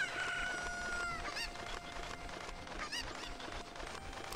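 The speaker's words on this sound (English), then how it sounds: "the first thing I'm gonna do is kill this chicken" Fowl clucks and squawks from a chicken in The Legend of Zelda: Ocarina of Time sound in repeated bursts over steady game background audio, fairly faint and with no talk.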